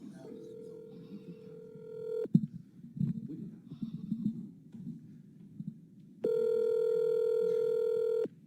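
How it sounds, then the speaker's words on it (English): A telephone call rings through on speaker: two long, loud electronic ringback tones separated by several seconds of quiet murmuring and faint background rustle, the second tone louder and sustained until the end. "So I think right here he's calling Donnell"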